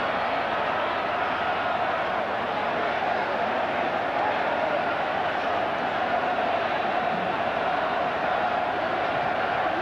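Home crowd at an Ohio State college football game against Michigan, a loud, steady roar of yelling from a massive stadium that fills the whole stretch without a break, with broadcast commentary faintly underneath.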